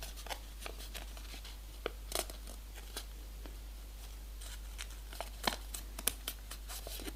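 Origami paper being folded to make a tiny 3D bird, each corner creased in toward the center: scattered crisp crinkles and sharp paper snaps, close and fairly quiet, with no talking.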